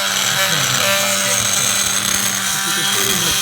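Close, loud buzz of a Multimaster oscillating multi-tool cutting into cast iron, a harsh continuous grinding whine with a rough, stuttering scrape as the blade bites and chatters against the metal.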